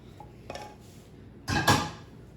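A spatula scraping out a mixing bowl while making banana cream pie, two short scrapes, a faint one followed by a louder, longer swipe, close and quiet with no talking.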